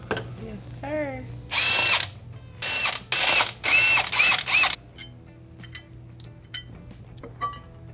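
A power tool on a Chevy C20 truck fires several loud, close bursts of a few seconds each, with ratcheting clicks and handling clatter between them and quieter clinks after.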